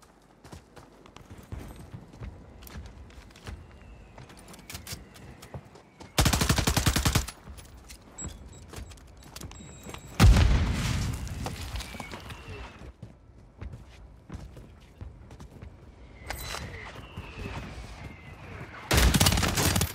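Gunshots in a video game, with several loud dense bursts of rapid fire standing out against quieter background action and scattered single shots, a voice talking between them.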